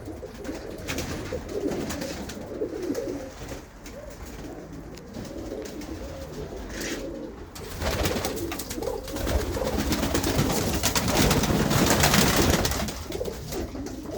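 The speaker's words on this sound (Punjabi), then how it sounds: "ਦੇਖੋ ਬਾਈ ਨਿੱਕੀ ਜੀ ਕਬੂਤਰੀ ਆ" Racing pigeons in a loft in Sheffield cooing close by, soft repeated throaty calls layered over each other, with some rustling and fluttering.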